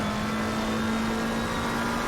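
A McLaren GT3 race car in a racing video game, at the Misano circuit, holds a steady, loud engine drone with a constant tone and no speech over it.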